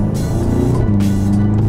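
VW Golf 7 GTI TCR with an Akrapovic exhaust, a loud, steady droning engine and exhaust note heard up close throughout.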